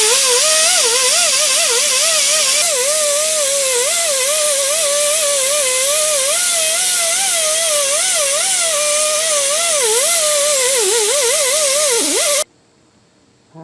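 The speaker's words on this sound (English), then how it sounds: "let me get the die grinder with the roll-lock disc on it, and we will clean up this this face where the gasket sealer goes" A die grinder fitted with a Roll-Lock abrasive disc scours the gasket face of the rear differential on a 2000 Ford F350 dually, a loud continuous whine wavering in pitch under load for about twelve seconds before cutting off abruptly.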